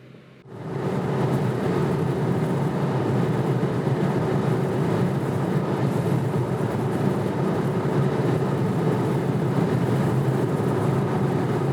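A Jeep with an airball suspension setup drives on the highway. The interior road and engine rumble starts abruptly and then holds as a steady, loud drone, with no talking.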